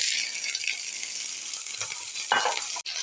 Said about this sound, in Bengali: এখন আমি এখানে কেটে রাখা কুচি কুচি করে পেঁয়াজ আর কাঁচামরিচ দিয়ে দিব।